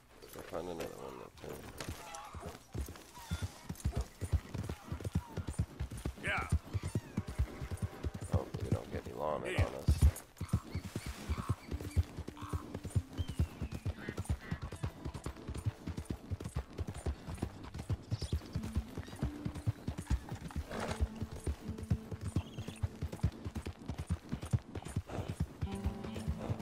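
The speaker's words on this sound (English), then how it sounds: "Oh, there's my horse." Horse hooves clip-clop in a steady walking rhythm throughout, with occasional mechanical clinks and a voice speaking over it, in the video game Red Dead Redemption 2.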